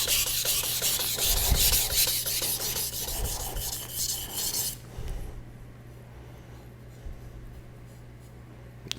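Close, gritty rasping of a knife blade stroked across a Shapton Kuromaku 1000 grit whetstone, loud steady back-and-forth scraping that suddenly drops to a quieter, softer rubbing, with no voices.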